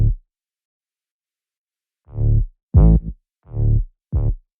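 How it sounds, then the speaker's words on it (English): An 808 bass layered with a second synth plays short, deep, booming tonal notes: one fading tail at the start, then four punchy hits in an uneven rhythm, loud and close with silence between them and no talk. "And that's an 808 layered with a different synth that I made."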